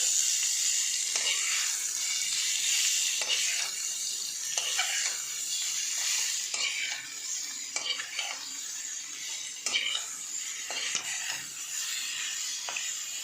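A spoon stirs mango chutney in a pan, with a continuous soft sizzle of cooking and light, irregular scrapes and taps against the pan, close and steady throughout.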